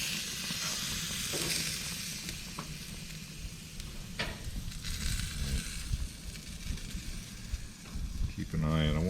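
Meat sears on a hot camp grill with a steady close sizzle and crackle, broken by occasional scraping and handling sounds, while a voice talks intermittently over it.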